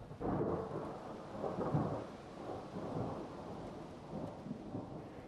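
A nighttime thunderstorm with rain and wind: low rumbling thunder rolls in repeated surges over a steady hiss of rainfall, fairly distant and moderate in loudness, with no voices.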